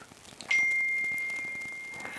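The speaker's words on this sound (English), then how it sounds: "That's my phone." A phone notification ding sounds once indoors, a single clear tone that rings out and slowly fades over about a second and a half above faint room noise.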